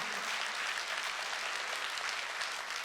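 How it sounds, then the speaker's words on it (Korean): A church congregation at a Korean worship service breaks into steady, dense applause that stays loud and even throughout, with no voices rising above the clapping. "박수 한번"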